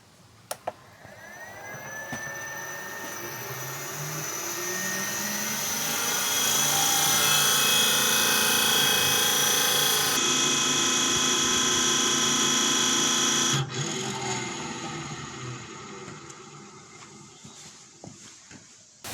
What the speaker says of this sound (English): This is putting the motor under full load at half speed.